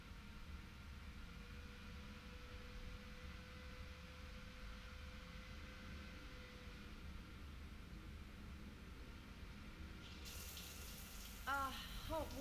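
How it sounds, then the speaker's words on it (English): Shower water running in a Mass Effect Legendary Edition apartment, a steady, soft, even hiss throughout, with a few brighter clinks and chimes near the end. "I figured you'd be more interested in a shower."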